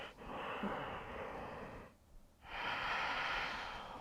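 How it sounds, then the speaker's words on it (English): Long, smooth, textured breaths in downward facing dog during a yoga flow: a steady, audible airy inhale, a short quiet gap, then an equally long, close exhale. "Take some long, smooth, textured breaths here. Listen to the sound."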